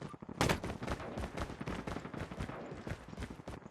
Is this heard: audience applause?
no